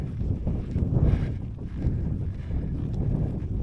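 Steady wind buffets the microphone on a breezy, cloudy hilltop at Adam's Grave in Wiltshire, a continuous low roar with gusts swelling and easing throughout and no other clear sounds.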